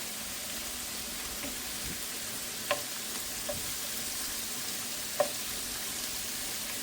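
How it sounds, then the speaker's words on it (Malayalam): Shrimp cooking in coconut milk in a pan gives a steady, even sizzle and bubbling, broken by a few faint clinks as the pieces are turned over. "അപ്പോൾ നമ്മുടെ ചെമ്മീൻ്റെ അതിൻ്റെ അകത്ത് കിടന്ന് പെട്ടെന്നൊന്ന് കുക്കായി വരട്ടെ. ഇതൊന്ന് മറിച്ചിടാം."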